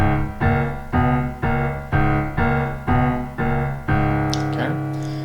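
Southern gospel piano chords struck in a syncopated pattern, seven sharp stabs in an uneven rhythm before a final sustained chord rings out, clear and close.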